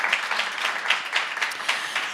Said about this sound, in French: une main d'applaudissement pour accueillir notre premier panéliste